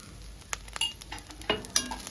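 Small fish curry in a pan with a half teaspoon of garam masala, stirred with a few scraping clinks of spoon against metal over a soft, steady sizzle, close and fairly quiet.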